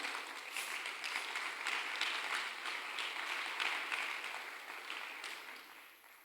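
A church congregation applauding, a soft, fairly distant wash of many hands clapping that holds steady and then tapers off near the end.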